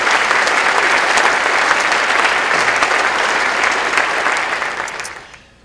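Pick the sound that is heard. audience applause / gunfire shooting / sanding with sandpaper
audience applause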